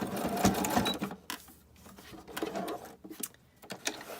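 A sewing machine zigzag-stitches an altered book snippet roll of paper and fabric scraps, giving quick rattling bursts that stop and start several times at close range.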